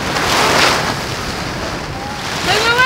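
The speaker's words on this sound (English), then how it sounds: "The wind is awful." Strong Arctic wind blusters and roars against a tent, a loud continuous rushing gale with flapping buffets that swells and eases across the few seconds, no voices heard.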